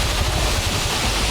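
Rukmal Ella waterfall in Dolosbage, Sri Lanka, roars close by as a loud, steady rush of falling water filling the whole sound, with no voices.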